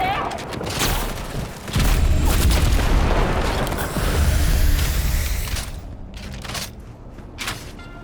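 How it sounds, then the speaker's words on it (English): Grenade blasts in the Cyberpunk 2077 video game on PS5, with booming low rumbles swelling for several seconds amid game noise and someone talking over it. "So let's throw grenades."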